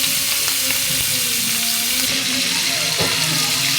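Pangas fish head coated in turmeric and chili frying in hot oil, a loud, dense, steady sizzle heard close, with faint stirring and no speech.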